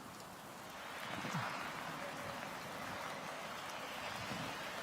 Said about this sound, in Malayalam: കനത്ത മഴ 1-2 മണിക്കൂറായി തുടരുകയാണ് കോട്ടയത്തിൻ്റെ പല ഭാഗങ്ങളിലും